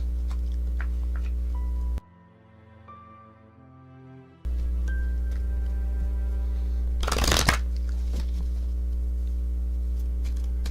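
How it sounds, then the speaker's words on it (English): Tarot cards are shuffled in quick riffling bursts, with a quiet pause in the middle and a louder flurry near the end, close to the microphone. "I'm going to shuffle them my set amount of times"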